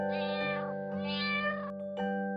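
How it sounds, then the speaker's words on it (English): A cat gives three meows in quick succession, close and clear over a steady background music drone, with no talking. "Cat."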